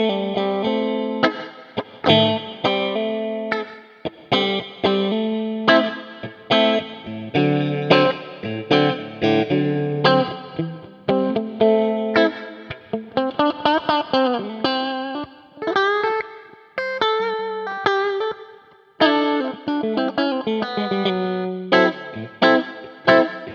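Music with a short plate reverb from the IK Multimedia X-Space plugin applied, a full band mix with punchy, tightly decaying tails, played loud and continuous with no talking.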